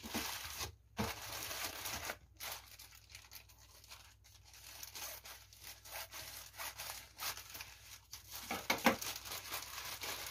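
AliExpress parcel packaging being opened: close, irregular plastic crinkling, tearing and rubbing in short bursts with brief pauses, quiet overall, with no talking.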